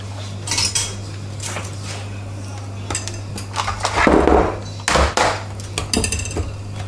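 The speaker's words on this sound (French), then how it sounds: "dans un cul de poule, on prépare donc 375 grammes de crème froide et 250 grammes de mascarpone. Voilà, comme ça, hop, on mélange tout ça" A whisk or spoon clinks and scrapes against a mixing bowl while cold cream and mascarpone are stirred together, giving irregular bursts of metallic clatter over a steady background hum.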